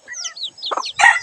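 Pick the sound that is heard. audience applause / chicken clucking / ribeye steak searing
chicken clucking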